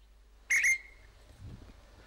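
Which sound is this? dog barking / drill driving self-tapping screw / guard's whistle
guard's whistle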